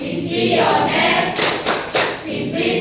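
Junior high school students clapping together in a room, a loud dense burst of hand claps with a few sharper accents, close by, lasting under three seconds.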